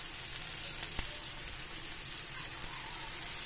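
Garlic sautéing in a pan for adobong kangkong, a soft, steady crackling sizzle with a few small pops, faint and close, no talking.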